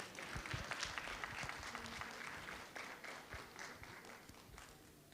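An audience at the Arts Alive launch event applauds a music legend, steady dense clapping from a crowd, moderately distant and fading slightly toward the end.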